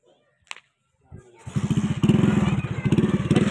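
A group of five or six motorcycles heading to a village wedding pass close by, engines rising into a loud, throbbing, pulsing roar after a couple of faint knocks, with voices mixed in.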